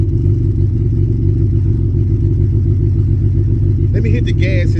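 A turbocharged Honda Civic engine running just after start-up, a steady, loud, close low rumble with an even pulsing drone throughout, plus a brief higher whine and clatter near the end.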